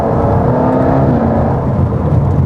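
A loud, throaty Jaguar XE SV Project 8 engine revs and holds a high, sustained roar throughout, close by and unbroken.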